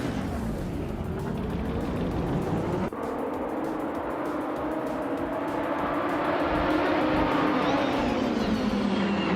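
A 1985 Lancia LC 2 race car pulls away at the start of a video-game race at Istanbul Park, its engine roaring loud and steady with a rising, sweeping pitch and no talk.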